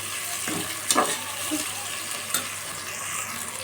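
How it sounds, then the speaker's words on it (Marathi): Tomato, onion and chillies sizzle in hot oil as a tempering for khichdi, a steady soft frying hiss with a few brief clinks and stirring scrapes. "मी फक्त फोडणी देत आहे"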